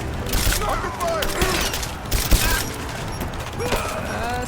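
Gunfire trades in a Rise of the Tomb Raider firefight, dense bursts and shots rattling steadily under shouted combat voices, with a heavier thump near the midpoint.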